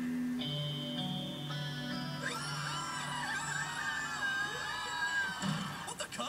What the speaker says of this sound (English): There's a bunch of crazed humans screaming at us.